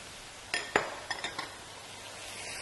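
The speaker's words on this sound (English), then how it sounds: "toss everything quickly to combine and to cook nicely" Fine rice vermicelli for Malaysian bihun goreng tossed in a wok: a quick cluster of faint metallic clinks and scrapes from utensils against the pan, then quiet background.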